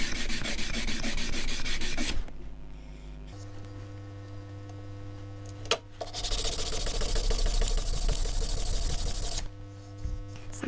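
Cork block sanding a small square box elder bowl spinning on a wood lathe, a steady close rubbing hiss with the motor hum underneath, broken by short pauses and one sharp click near the middle.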